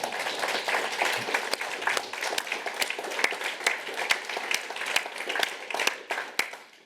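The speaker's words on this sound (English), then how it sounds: "a bit of a clap for what they did" Sustained audience applause at a talk about York's monument men and women, steady dense clapping filling the room with sharper individual claps standing out throughout.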